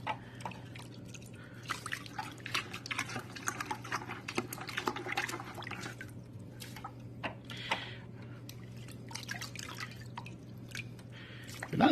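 Water dripping and trickling from rinsed canister aquarium filter sponges, a scattered series of soft close drips and splashes over a low steady hum, ending with a louder splash.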